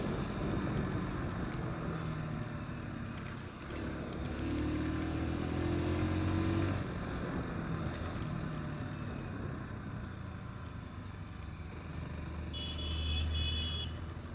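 A TVS XL100 Heavy Duty moped, the 2026 model, hums steadily while riding, its small engine droning continuously and swelling slightly as it pulls harder.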